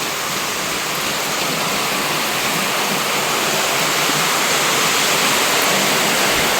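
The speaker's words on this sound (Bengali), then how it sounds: "এখানে বৃষ্টি পড়ছে" Heavy rain pours down during a thunderstorm, soaking a kitchen, as a dense, unbroken hiss that stays loud and even throughout, with no voices.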